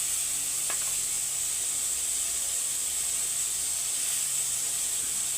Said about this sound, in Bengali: এই উচ্ছাগুলোকে আমি তেলে কেটে দেবো